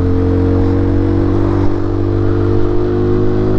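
A Peugeot PM-01 motorcycle with stock exhaust holds a steady, loud engine drone close by, a strong even hum with slight fluctuations and no pauses.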